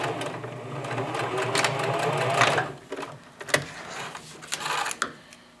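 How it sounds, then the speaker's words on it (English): A sewing machine stitches a pocket onto boxer shorts, a loud, close, rapid mechanical whir that runs steadily before breaking into short stop-start bursts near the end, with no talking. "sew a few stitches, reverse back a few stitches, and just sew it all the way to the other side on the 15, reversing at beginning and end."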